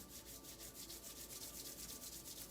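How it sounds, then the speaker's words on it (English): Palms rub briskly together in a steady back-and-forth rhythm, close and soft, a continuous dry swishing during a qigong practice. "Rubbing our hands together."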